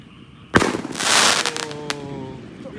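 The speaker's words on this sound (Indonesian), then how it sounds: "bangunkan sahur pakai mercon Roman Candle hari ini" Roman Candle mercon fireworks go off at night for a pre-dawn sahur wake-up in a village: a sharp bang followed by a dense crackling, hissing burst, then a few fainter pops and whistling tails.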